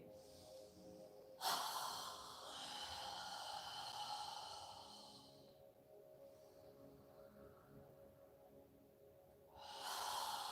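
Slow, faint breathing during a home yoga and meditation session, with a long airy breath, a pause, then another breath, heard close and quiet with no talking.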